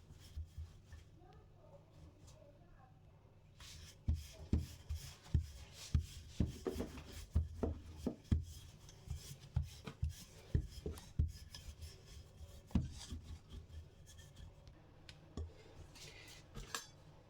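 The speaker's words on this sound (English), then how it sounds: "I will spread this dough on top of this surface." Chin-chin dough being spread across a work surface, a series of soft rasping, scraping strokes repeating in an uneven rhythm, close and quiet.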